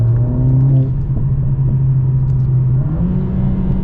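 A 4-cylinder performance car engine holds a loud, steady rumbling rev with a slight rise in pitch near the end, heard close with no voices.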